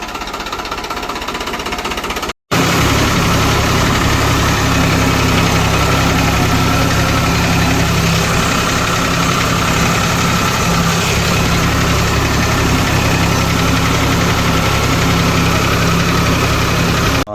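A tractor engine runs steadily and loudly with a deep, rumbling idle and a rapid knocking chug throughout, after a brief cut near the start.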